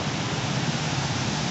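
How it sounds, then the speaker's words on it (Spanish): Rain falling at dusk in the historic centre of Cali, Colombia, a loud, dense, unbroken hiss of rainfall on city surfaces, steady throughout with no speech. "acá sí nos encontramos con esta lluvia"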